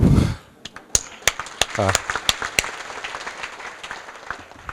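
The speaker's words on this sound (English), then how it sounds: "All of us clap." Sparse clapping from a few members of an audience at a Buddhist talk in Malaysia, distinct individual claps spaced irregularly after a brief burst of sound at the start.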